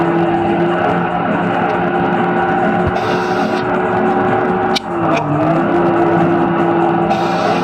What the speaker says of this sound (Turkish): Çok iyi hızlanıyor otobüs.